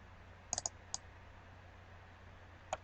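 Crisp computer mouse clicks close up: a quick double click, another single click shortly after, then one more click after a pause, over a faint steady room hum.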